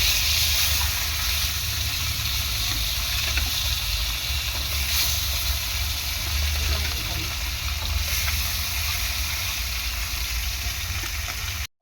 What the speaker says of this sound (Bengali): এই 4 পিস মাছ ভেজে নেব।